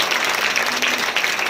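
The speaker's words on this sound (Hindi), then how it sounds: "ताली बजाई तो दम नहीं आया" An audience claps steadily at a spiritual talk on Mahashivratri, a dense, even patter of many hands that continues for a moment without voices over it.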